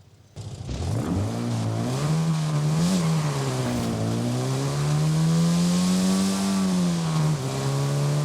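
The engine of a Morris Traveler in Forza Horizon 5 starts and revs up, a buzzy mid-pitched drone that rises and falls steadily for several seconds, close and alone without talk.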